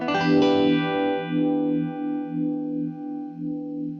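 An electric guitar played through a vibe effect pedal set to 20% depth, its sustained chords swelling and pulsing in a steady wobbling rhythm, close and moderately loud with no voices.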